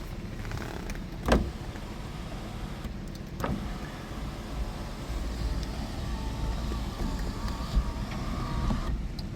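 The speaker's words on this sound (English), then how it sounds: "let me show you the operation of the sunroof" Electric sunroof on a 2006 GMC Sierra SLT Z71 pickup opening, a steady low motor hum inside the cab with a couple of sharp clicks or clunks.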